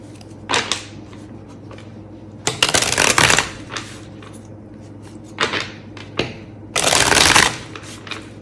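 A tarot deck being shuffled close up, in several bursts of riffling and card slaps separated by short pauses, with the longest bursts near the middle and end, over a quiet low hum.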